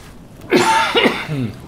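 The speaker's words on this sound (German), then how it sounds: "husten, husten!" A short, close burst of rough, voiced coughing from a character in the video game Paraworld, about a second long and heard alone.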